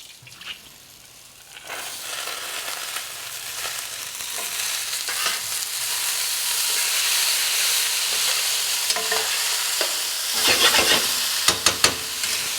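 Rinsed black beans hitting a hot pan with spices and herbs, giving a steady close sizzle with stirring scrapes and a few sharp clinks toward the end.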